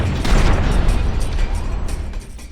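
Explosion from the shooter video game FEAR 2, a dense low rumbling boom that swells and rolls on loudly for the whole stretch with crackling debris on top and no one talking.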